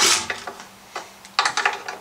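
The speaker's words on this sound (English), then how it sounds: "so I gotta use a wrench for this one" Wrench turning a bolt on an old Honda pressure washer, several quick metallic ratcheting clicks in short irregular bursts, close by and without talk.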